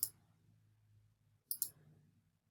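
Two sharp computer mouse clicks, the first at the very start and a second about one and a half seconds later, are heard close up over a low, quiet background hum while someone works in the WordPress Gutenberg editor.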